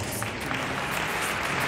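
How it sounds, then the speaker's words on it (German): A crowd at Equitana 2022 keeps up continuous, fairly distant clapping, a brief steady wash of applause with no clear breaks. "Das war das Zeichen, dass ihr weitermacht mit dem Applaus"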